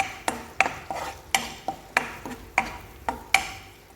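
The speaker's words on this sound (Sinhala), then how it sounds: "මේ විදිහට එකතු කරලා මම හොඳට චුට්ටක් කලවම් කරගන්නවා." Onions, garlic, curry leaves and green chilies being stirred in butter in a pan, a series of sharp, regular utensil taps and scrapes repeating about every half second, close and clear.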